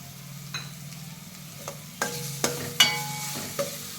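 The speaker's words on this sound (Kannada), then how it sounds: "ಒಳ್ಳೆ ಪರಿಮಳ ಬರೋ ತನಕ ಒಂದು ಸ್ವಲ್ಪ ಫ್ರೈ ಮಾಡ್ಕೋಬೇಕು ಇದನ್ನು, ಪೇಸ್ಟನ್ನು" Spice paste with salt and turmeric powder frying in a pan, a soft steady sizzle with a few sharper clicks of stirring, close and alone with no voices.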